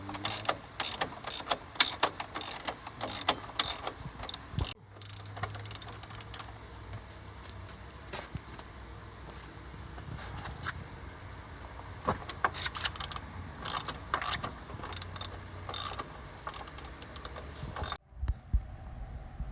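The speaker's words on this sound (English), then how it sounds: "it's two more 12mm bolts down here that attach that to the frame" A hand ratchet loosens 12mm bolts holding the rack to the frame of a 2013 Honda Recon ATV, giving rapid bursts of clicking pawl teeth in repeated runs, with short pauses between strokes, close up.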